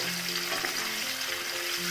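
Paneer cubes frying in a pan for paneer kaju curry, giving a steady, close sizzle that holds evenly throughout with faint stirring textures underneath and no talking.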